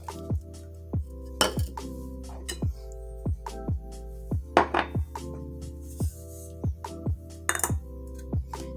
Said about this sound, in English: we're going to get us a bowl and we're going to combine all our dry ingredients